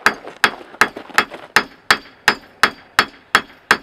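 Eleven evenly spaced ringing clangs of a hammer striking hot metal on an anvil while forging a knife over a charcoal hibachi, each strike sharp and bright with a short decaying ring, close and loud.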